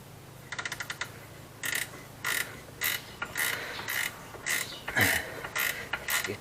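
A 13mm ratchet spanner turns on an ATV axle, a K-Lion Santa 200, giving a quick burst of fine clicks followed by slower, louder ratcheting strokes with creaks, close up.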